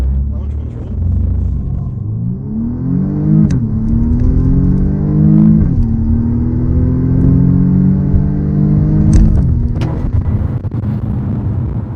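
BMW M235i Gran Coupé xDrive with 306 hp in Sport mode, accelerating hard: a loud, rising engine roar that climbs through several gear changes with brief dips between them, sustained for the full stretch without talk.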